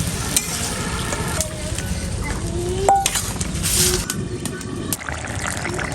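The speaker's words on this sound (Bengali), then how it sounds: "এই যে মাছ রান্না দেখেন, যে বলক চলে আসছে" Fish curry bubbling to a boil in a pot, a steady broad simmering hiss and sizzle throughout with occasional stirring clinks, fairly close.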